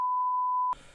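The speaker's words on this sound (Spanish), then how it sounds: "voy a tener que tirar del pitido este famoso" A single steady electronic censorship beep at one pitch holds for most of the moment, masking a swear word, then cuts abruptly into a brief burst of room noise.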